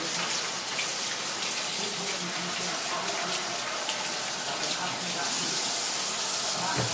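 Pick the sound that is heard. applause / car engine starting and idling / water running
water running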